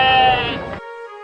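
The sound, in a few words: goat bleating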